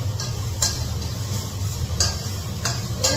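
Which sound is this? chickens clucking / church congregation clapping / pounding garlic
pounding garlic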